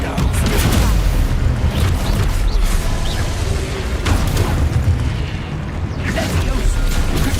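Descendo spell cast in Hogwarts Legacy, a loud magical blast with booming crashes and whooshing bursts filling the whole stretch under dense game effects and music, with no gaps of quiet.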